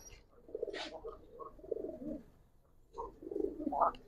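A pair of khaki racer pigeons coo nearby in two soft, throaty bursts of repeated calls, with a quiet pause between them.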